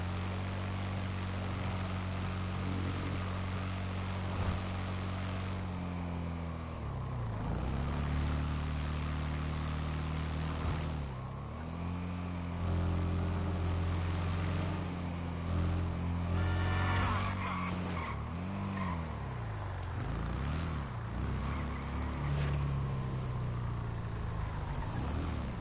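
A motorbike in the video game GTA 5 roars continuously at close range, its engine pitch climbing and falling through gear shifts and throttle changes, with tyre skidding mixed in.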